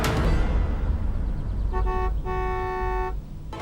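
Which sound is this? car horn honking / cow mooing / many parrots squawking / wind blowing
car horn honking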